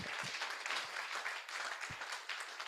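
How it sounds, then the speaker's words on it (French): A church congregation claps and cheers at a worship service, a modest burst of applause with scattered handclaps and voices, somewhat distant and fairly quiet. "Est-ce que vous pouvez vous acclamer?"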